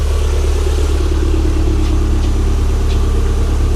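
A 1992 Toyota MR2 GT Turbo coupe idles steadily at a car auction, a loud, even, close-up engine hum with no talk.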